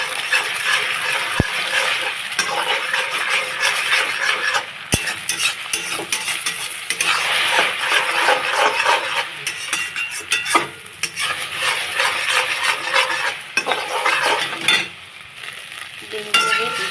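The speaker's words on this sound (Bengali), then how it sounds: "তেল দিয়ে দেবো, দিয়ে প্রথমে ডিমগুলো ভেজে নেব" Eggs frying in hot oil with a steady close sizzle, stirred continuously with a utensil that scrapes and clinks against the pan, plus a couple of sharp knocks; no talking.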